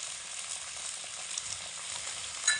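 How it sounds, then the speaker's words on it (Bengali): Sliced flat beans and potatoes fry in a pan on medium heat, giving a steady close hiss and sizzle throughout, with a brief stir or clink near the end. "কেটে ধুয়ে রাখা শিমগুলোকে প্রথমে দিয়ে ভেজে নেব এবং একই সঙ্গে আলুগুলোকেও ভেজে নেব।"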